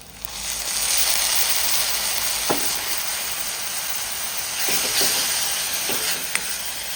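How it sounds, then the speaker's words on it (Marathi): Water poured into garam masala in an iron kadai for a potato dish sets off a steady, loud broadband sizzle and hiss lasting several seconds, with a few brief clinks near the end. "मी थोडंसं पाणी घालणार आहे. हे थोडंसं शिजण्यासाठी मसाला."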